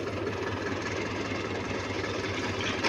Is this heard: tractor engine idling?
yes